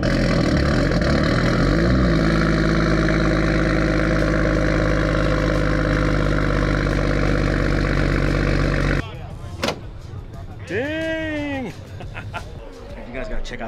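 A Toyota Supra MK5 widebody with an RK titanium dual exhaust idles loudly and steadily up close, then cuts off. Voices talk briefly after it stops.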